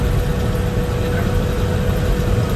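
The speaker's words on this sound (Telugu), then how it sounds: "మనకి భారత్ బెంచ్లో ఏంటంటే కొంచెం ఫైరింగ్ అనేది స్మూత్గా ఉంటుంది" Steady low rumble of a BharatBenz bus engine running smoothly, heard from inside on a long-distance journey, a constant even drone with no breaks.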